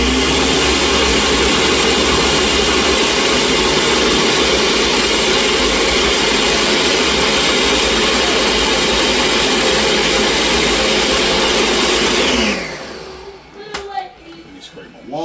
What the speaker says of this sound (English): We're gonna blend this baby again.